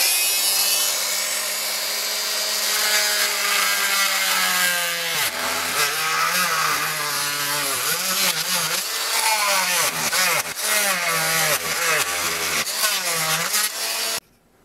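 A power tool cuts into a wooden speaker cabinet for an Edifier R2700 loudspeaker, a loud sustained whining grind with shifting pitch that runs almost without pause and then stops abruptly.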